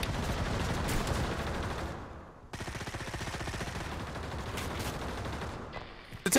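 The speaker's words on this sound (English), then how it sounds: "that guy just started shooting me for no fucking reason" Sustained rapid gunfire from a video game, a dense near-continuous volley that pauses briefly midway and resumes as steady repeated shots, fairly loud throughout with a sharp burst at the very end.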